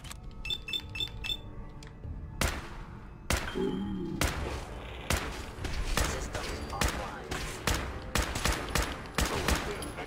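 Gunfire at a synth in Fallout 4, a series of sharp loud shots, some in quick bursts and some spaced out, with metallic clinks and thuds between them and speech alongside.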